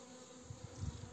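Honeybees flying at a forest apiary in early spring after a poor wintering, a steady low buzzing drone that swells slightly toward the end, close and alone.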